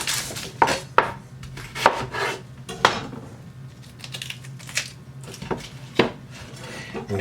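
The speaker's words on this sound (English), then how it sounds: "This half, a nice rough chop on it" Half an onion roughly chopped with a knife on a board, a series of sharp, close knife strikes in an irregular rhythm, with no talking over it.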